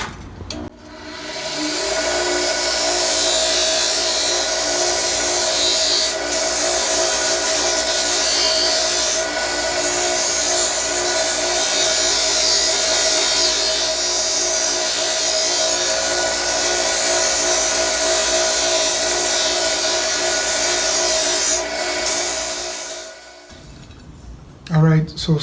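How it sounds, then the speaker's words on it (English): A flap sanding wheel grinds the edges of steel armor sabatons in a loud, continuous abrasive rasp that holds steady for over twenty seconds before cutting off near the end. "we're gonna clean them up, clean up all the edges with this flap sanding wheel here"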